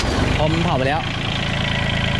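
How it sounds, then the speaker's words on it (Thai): A combine harvester's engine idles with a steady, loud mechanical rumble while someone speaks over it at close range. "เรากดเบรกไว้อย่างงี้แล้วสตาร์ทเครื่องสตาร์ทเครื่องครับ"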